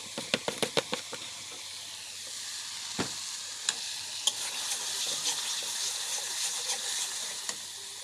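Spiced masala with pieces of mango pickle sizzles in a pan for a dal, a steady frying hiss broken by a quick run of spoon scrapes and taps against the pan.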